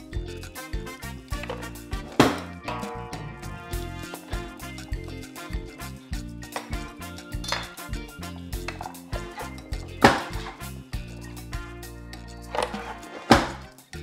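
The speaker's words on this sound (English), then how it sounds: "And we put it down like this and chop it" A knife chops halved tomatoes on a cutting board, a string of sharp, irregular thuds with a few louder strikes, close up and with no talk.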